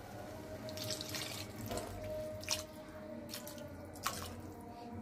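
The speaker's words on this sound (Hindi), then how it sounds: "थोड़ा सा पानी शामिल करेंगे।" A little water is poured into a pan of turmeric, red chilli and crushed chilli for homemade kaleji, giving a steady tap-like trickle with a couple of brief splashy drips.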